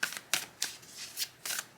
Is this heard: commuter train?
no